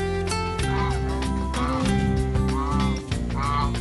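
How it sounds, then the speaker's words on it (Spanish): Geese roaming loose at a restaurant by a crater lake honk repeatedly nearby, loud overlapping nasal calls in uneven bursts. "son los famosos gansos"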